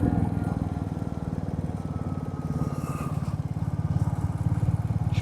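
Motorbikes ride along a road through Lawachara evergreen forest near Sreemangal, their engines producing a steady, pulsing drone that holds close and fairly loud throughout, with a faint hint of voices in the background.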